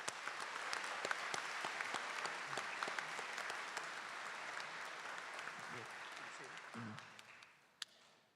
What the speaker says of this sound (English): Let's have another round of applause for these outstanding graduates